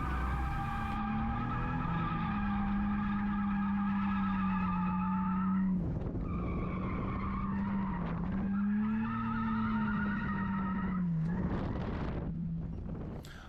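A car drifts through a course, its engine droning at a sustained pitch that dips and rises with throttle changes while tires skid and squeal in bursts, loud and close with no talk.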